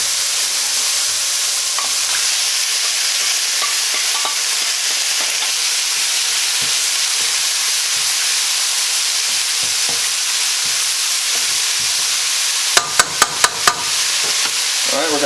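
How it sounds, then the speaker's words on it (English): Garlic sizzling steadily in a hot pan before beef and liquid go in, a continuous loud crackle with a quick burst of sharp taps from a utensil near the end. "garlic particularly can burn quickly at high heat, so we're only going to have this in here for about 30 seconds just for it to get fragrant"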